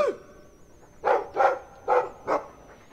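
A Mabari war dog in the video game Dragon Age 2 gives four sharp, clear barks in a quick, even rhythm, close and prominent over a faint high electronic tone.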